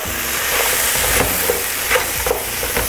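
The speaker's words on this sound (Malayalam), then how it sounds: "നന്ന് ഇളക്കി കൊടുക്കുക." Pepper crab roast with crushed chilli being stirred in a fairly dry pan, Kerala style: loud, close frying sizzle with repeated scraping strokes of a spoon, no voices.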